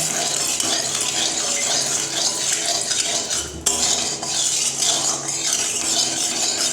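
Paneer and turmeric fry in hot oil while being stirred. A dense, loud, continuous sizzle is broken by the scrape and clink of a utensil against the pan, and no one speaks.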